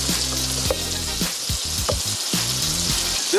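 Food sizzles steadily in a frying pan while it browns before being flipped, a continuous close crackle with brief clinks and stirring sounds over a low background hum.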